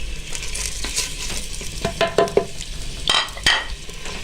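Beef frying in a pan with garlic and onion for karela gosht, a steady sizzle under close stirring scrapes and a few sharp metallic clinks of a utensil against the pan, with no talking.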